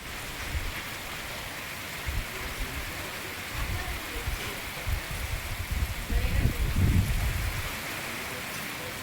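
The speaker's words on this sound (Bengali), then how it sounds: "যখন খুশি বৃষ্টি হচ্ছে।" Steady rain falls outside during a rainy spell, a dense, constant patter on surfaces that swells slightly near the end, with some low rumbling underneath.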